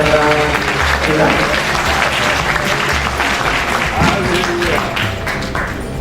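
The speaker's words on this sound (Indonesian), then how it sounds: "Tepuk tangan untuk semua pembicara kita." A crowd at an Islam versus Christianity debate claps for the speakers, a loud, continuous wash of applause with voices mixed in, tapering slightly at the close.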